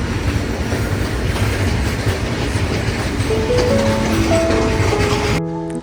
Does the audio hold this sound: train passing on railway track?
yes